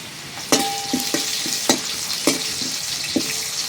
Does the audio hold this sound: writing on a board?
no